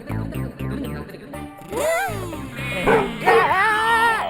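A man playfully mimics a dog with his voice, producing a string of yipping, barking and whimpering sounds in a lively household scene from a Hindi comedy series, the imitated barks rising and falling close up.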